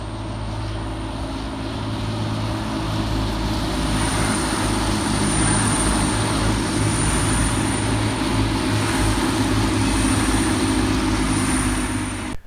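Class 185 Transpennine Express diesel trains depart Mirfield station, a continuous loud low rumble with a high whine above it, holding steady for over twelve seconds with no talk.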